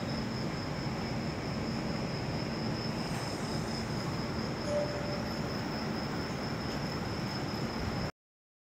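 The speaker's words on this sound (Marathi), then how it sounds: "बघा ट्रेन आलेली आहे" A train pulls in at a station platform in the middle of the night, a continuous low rumble of rolling wagons with a faint high squeal, steady and fairly distant, ending abruptly.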